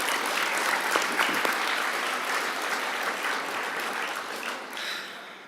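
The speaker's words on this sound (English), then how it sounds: "So your parents deserve a round of applause" A crowd at the Saskatchewan OYF awards ceremony applauds the parents, with steady, dense clapping that fills the room and tapers slightly near the end, and no voices over it.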